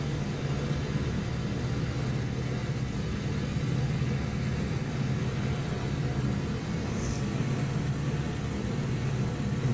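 Wellington bomber engines held at about 2400 RPM in flight, a loud, steady, dense droning roar that stays constant throughout.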